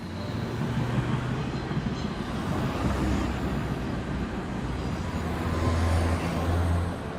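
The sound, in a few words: city traffic noise heard from Berlin rooftops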